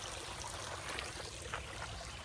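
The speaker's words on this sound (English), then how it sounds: "3 miles in, and finally a water feature." Mountain stream running along a hiking trail on Mt Greylock, a steady broadband rush and trickle of flowing water heard fairly faint and continuous, with no voices.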